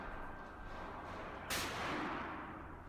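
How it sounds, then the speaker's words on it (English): A Remington 870 pump-action shotgun fires one loud, sharp blast at about the halfway point. Its report rings out and decays over the following second above a steady outdoor background. "Man, I love shooting that Remington shotgun."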